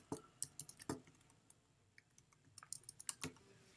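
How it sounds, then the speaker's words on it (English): Someone types an address on a computer keyboard, with quiet uneven key clicks in short bursts and clusters, close and faint in a quiet room. "Can't type today, and then enter."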